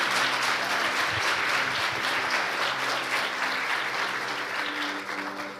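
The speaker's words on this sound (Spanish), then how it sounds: "Dale un fuerte aplauso al Señor." Strong, sustained applause from a church congregation during a sermon, dense clapping filling the space for several seconds and tapering slightly toward the end.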